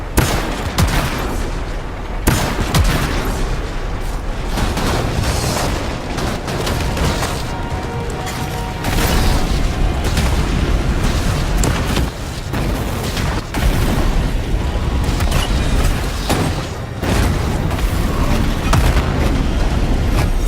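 Dense gunfire and booming explosions fill a combat sequence in the video game Anthem, with rapid overlapping shots and heavy blasts sounding loud and continuous throughout.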